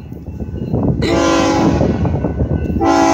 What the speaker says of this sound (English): Ooh, a bunch of locomotives.